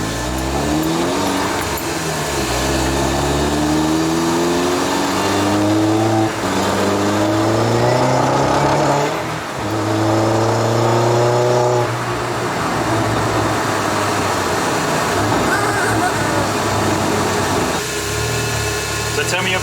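A VW Polo 6n2 Quattro car accelerates through several rising engine sweeps, with revs climbing, dropping at gear changes and climbing again. The sound is loud and close, with engine drone throughout.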